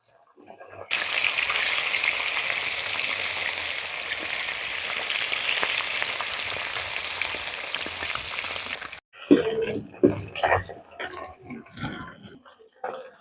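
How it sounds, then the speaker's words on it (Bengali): Koi fish lightly frying in oil, a loud steady close sizzle that stops abruptly, followed by someone speaking over quiet kitchen sounds. "মাছগুলো আমি কড়া করে ভাজবো নি হালকা করে আমি ভেজে নেবো"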